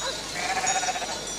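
Ewes bleating on a sheep farm where milk is produced for sheep's-milk cheese, a short wavering bleat heard clearly and fairly close, with no talk over it.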